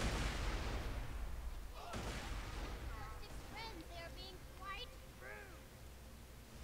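Grenade blasts in Borderlands 2, fired off in quick succession, rumble loudly and densely at the start before giving way to whooshing, electric game effects in the background.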